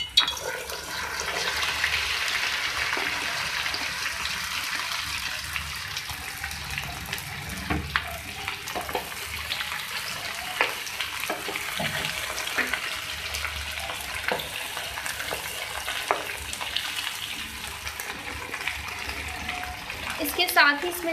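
Sliced okra (bhindi) drops into hot oil in a pan, giving a steady broad hiss and crackle of frying that holds throughout with small pops and clinks, while a voice faintly talks over it.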